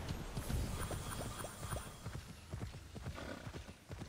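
Horse hooves clip-clop at a steady gallop through the open world of Immortals Fenyx Rising, a rapid rhythmic drumming heard up close over a constant wash of ambient game noise.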